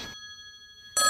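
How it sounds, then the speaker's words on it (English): A telephone rings with a bright electronic trill, the steady tone sounding in short bursts at the start and end around a sustained ringing note, alone in a quiet room. "Oh, is that the phone again?"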